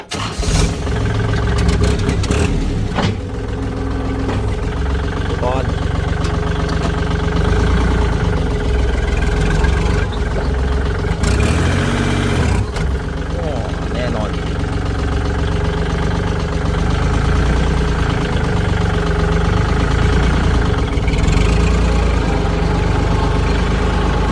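A used 2017 Kubota L4018 tractor engine runs with a loud, steady diesel rumble and a rattling idle. It holds close and continuous, with a brief shift in tone partway through.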